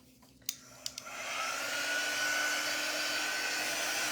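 A hair dryer is switched on after a few clicks and quickly settles into a steady, moderately loud whirring blow aimed at drying a painted craft project, with no talking.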